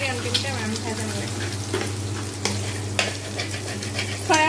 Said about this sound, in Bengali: ডিমটা আমি ভাজা নেব